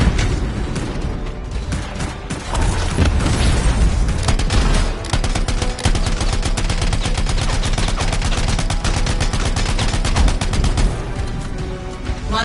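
Rapid sustained gunfire aimed at enemy turrets in the Anthem video game, a dense loud barrage of shots with booms and mechanical clatter running the whole time, no talking.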